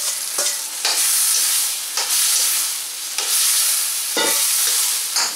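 Beef is stirred into tomatoes in a hot pan, giving a loud, steady sizzle broken by repeated scraping strokes of a spoon, close and with no talk.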